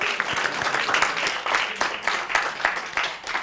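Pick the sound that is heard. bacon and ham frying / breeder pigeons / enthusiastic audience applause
enthusiastic audience applause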